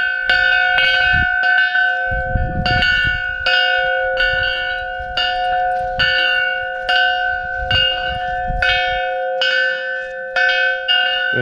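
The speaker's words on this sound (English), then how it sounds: "It's a big old bell." A big old bell at East Jesus in Slab City, California, struck again and again in an uneven rhythm, each bright clang ringing on with a long sustained hum, heard close up and loud with rustling and faint voices in between.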